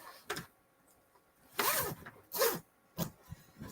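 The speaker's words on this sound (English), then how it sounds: "if you will unzip the zipper" A zipper running around the edge of a quilted, heat-reflective pressing pad is pulled open in a few short, crisp zips, close and clear with quiet pauses between them.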